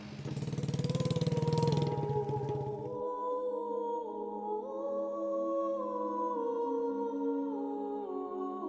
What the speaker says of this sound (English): we're gonna jump on the little puddle jumper bike, the little adventure bike